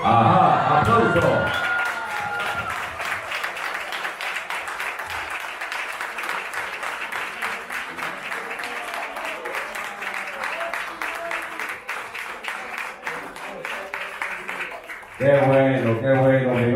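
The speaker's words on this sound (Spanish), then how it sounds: "¡Aplauso!" A studio audience breaks into sustained, crowded applause after an on-air marriage proposal. Dense clapping runs for over ten seconds, with talking briefly at the start and again as it ends.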